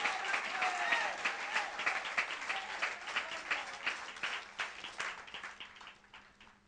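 A church congregation applauding, a dense wash of clapping at moderate distance that slowly fades toward the end, with faint voices mixed in.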